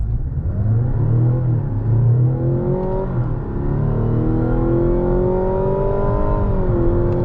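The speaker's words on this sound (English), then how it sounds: "You can kind of hear that whir of the electric motor in the background" A 2024 Mazda CX-90 PHEV in sport mode accelerates hard, its electric motor whir climbing steadily in pitch beneath a continuous loud cabin rumble, with no voices.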